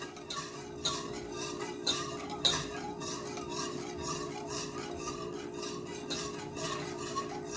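A spoon scrapes steadily around a pan of thickening condensed milk mixture on medium heat, producing repeated soft rasping strokes in an even rhythm, close and moderately loud, with no talk.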